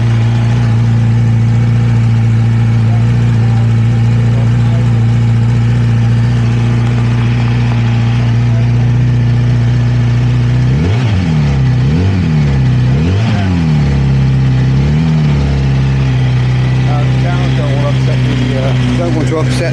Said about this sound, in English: RS with its standard exhaust pipe.